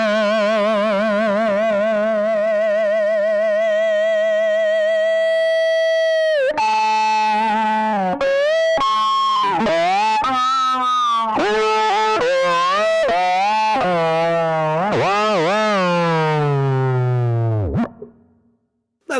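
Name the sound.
distortion effect on string instrument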